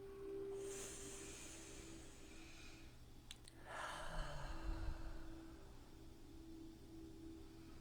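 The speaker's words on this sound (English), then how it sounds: "we're going to start with some nice, big, deep breaths." Slow, deep breaths during a meditation session: a long airy inhale followed by a softer breathy exhale, quiet and close against a faint steady background hum.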